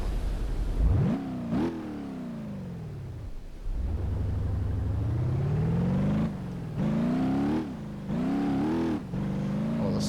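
A small car in BeamNG.drive, engine revving hard and climbing through the gears, loud and close, with repeated rising whines, brief drops between shifts, and no talk over it.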